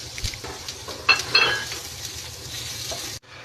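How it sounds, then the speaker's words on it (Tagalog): Garlic and onion sautéing in a kawali for chicken paksiw give a steady close sizzle, with a few metallic scrapes and taps of the stirring spoon before the sound cuts off abruptly. "Sa parehong kawali, igisa ang ating bawang."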